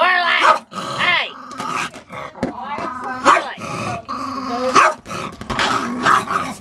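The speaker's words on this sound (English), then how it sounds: "Let's see what these dogs are doing." Several dogs bark, growl and yip close by in loud, irregular bursts that overlap and come in quick succession, with a person calling out over them.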